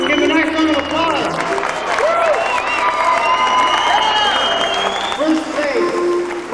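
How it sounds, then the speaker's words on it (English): Audience applause and cheering erupt for a second-place winner in the best appliance category at a special effects make-up contest, a steady crowd roar with voices calling out throughout. "Give a nice round of applause."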